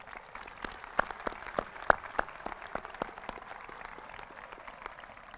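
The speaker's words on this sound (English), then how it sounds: "Let's give them a round of applause." Commencement audience applauding for the school's athletes, a steady wash of many hands clapping at moderate distance with a few sharper close claps standing out, continuing evenly throughout.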